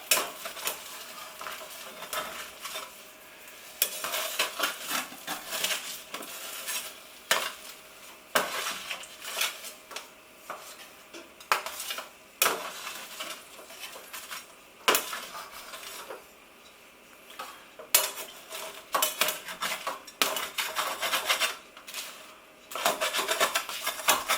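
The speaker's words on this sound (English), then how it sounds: "That's the beauty of using a stainless steel baking sheet. You can just scrape away, no problem." A metal spatula scrapes food across a stainless steel baking sheet in repeated close, rough strokes, with scraping and clinking that continue steadily for the whole stretch and no talk over it.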